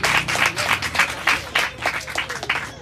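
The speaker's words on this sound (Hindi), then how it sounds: "तालियां" A congregation claps during a church service, the applause coming in rhythmic pulsing bursts at roughly a steady beat, with faint voices mixed in under it.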